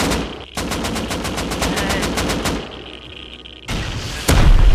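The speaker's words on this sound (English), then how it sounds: "Killed one with a launcher" Weapon fire and launcher blasts in the video game Rust come as rapid, loud automatic bursts with short gaps, ending in a heavier, booming shot near the end.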